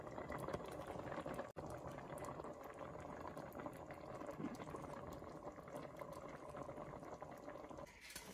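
A pot of homemade apple and grape jam bubbles at a steady rolling boil, with a continuous close hiss and popping throughout and no talk.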